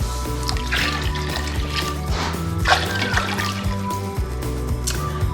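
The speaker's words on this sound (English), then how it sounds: "And then I'm gonna add 8 cups of water." Water trickles and pours steadily into a cooking pot, a continuous liquid stream over a low background hum, with no talking.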